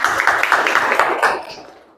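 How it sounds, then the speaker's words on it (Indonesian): A short burst of applause for a student group in a classroom, quick overlapping claps that fade out within two seconds. "tepuk tangan untuk kelompok berapa nih?"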